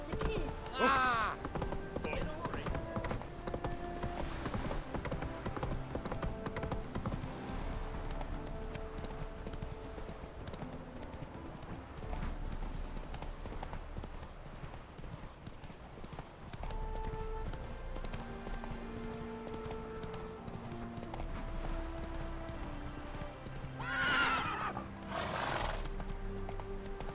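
Roach the horse in The Witcher 3 trotting with steady clip-clop hoofbeats, with a whinny near the start and another near the end, under game music and a voice.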